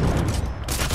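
Sniper rifle fire in a video game: a loud, dense blast of gunfire with booming low-end rumble filling the whole second, with a brief dip midway before the noise swells again.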